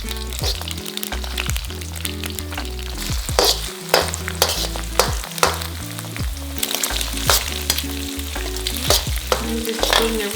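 Malaysian-style mee goreng noodles frying in a pan, with a loud, constant sizzle and repeated scraping stirs over background music.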